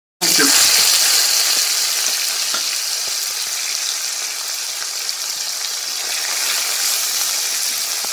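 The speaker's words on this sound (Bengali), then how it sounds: "এই যে ভাজা হয়ে গেল, আর আলুগুলো দিয়ে সজনা ফুল ভাজা হয়ে গেল।" Potatoes and drumstick flowers sizzle steadily in hot oil, a loud, continuous crackling fry that holds from start to finish, with occasional faint stirring scrapes and no clear talk.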